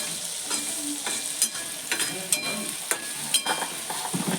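Pieces of stale bhakri being stirred in a hot pan, a steady sizzle of frying broken by repeated scraping and clinking strokes of the spoon, close up and without talk.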